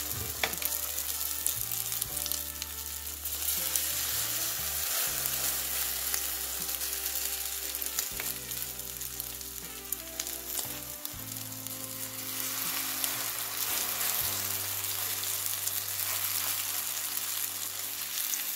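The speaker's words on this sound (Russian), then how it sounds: "И сейчас будем жарить. На медленном огне." Chinese cabbage fritters frying in sunflower oil on low heat, giving a steady, close, dense sizzle with crackling pops throughout, along with a faint background melody and no talking.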